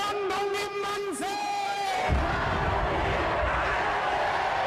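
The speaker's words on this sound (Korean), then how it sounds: "80년 전 광복을 맞은 우리 민족이 외친 함성, 아마도 이런 울림이었을까요?" A reconstructed crowd celebrating Korea's liberation day 80 years ago: a few raised, drawn-out voices ring out first, then a dense, loud roar of massed shouting takes over and holds steady.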